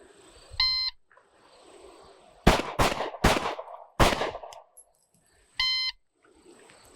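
Shooting range timer tone, two short electronic beeps that bracket a burst of four loud, close pistol shots fired in quick succession, with quiet pauses between.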